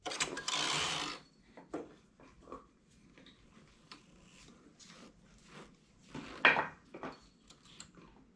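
A knitting machine carriage is pushed across to knit a row: a loud rasping whoosh at the start, then clicks and clatters of the needle bed, ending in a second sharp rattling pass.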